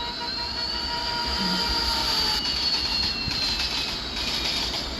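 Another train passes on the nearby track with a loud, steady rumble of wheels on rail and a high, sustained squeal of metal, heard close and without talk.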